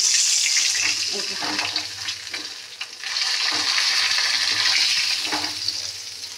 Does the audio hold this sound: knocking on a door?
no